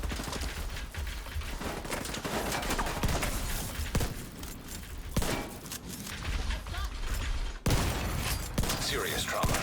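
Shotgun blasts and weapon noise in a video game played on hard difficulty with shock rounds, a dense, loud stretch of sharp shots and mechanical clatter, with some talk mixed in.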